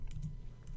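Keys clatter on a computer keyboard during shipment data entry, a few quick clicks over a steady low hum, with no talk.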